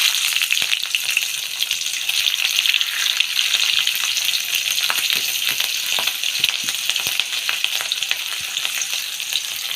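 Cumin seeds and green chili frying in hot oil, a dense, loud crackling sizzle with quick pops and spatters that holds steady from start to finish.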